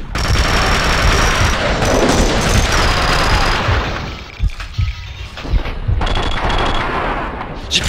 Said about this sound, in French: On se fait tirer dessus, vénère.